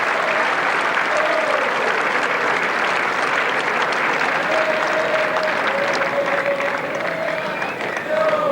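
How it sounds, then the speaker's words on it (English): A large rugby crowd at Ballymore applauds an injured Argentina player during a 1986 Test match, a dense, sustained wash of clapping heard from a distance, with a commentator talking over it. "This Ballymore crowd giving Hugo Porter some generous applause."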